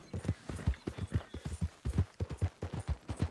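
Horse hooves clip-clop in a quick, steady rhythm of close, dull thuds in Red Dead Redemption 2, the four-beat pattern repeating continuously without pause.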